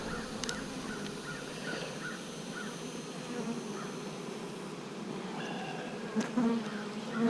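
Honeybees buzzing around an open hive while a frame is pulled: a dense, steady drone of many bees, close and continuous, with a few faint knocks near the end.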